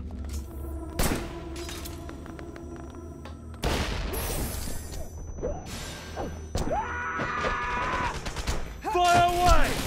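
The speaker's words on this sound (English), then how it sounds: "Grenade!" Grenade blasts and gunfire in the action game Wanted: Dead on Xbox Series X: sharp shots and bursts of fire, then rumbling booms and debris. Loud and dense throughout, with shouted voices in the mix.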